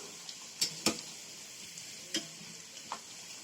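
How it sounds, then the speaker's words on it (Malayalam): Thin banana chips frying in oil and being flipped: a faint background sizzle broken by a few sharp taps and clicks of the utensil against the pan, quiet and close, with no talking. "തിരിച്ചിട്ട് കൊടുക്കാം."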